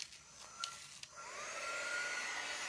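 A hair dryer switched on after a few soft clicks, settling into a steady close whirring rush that holds to the end.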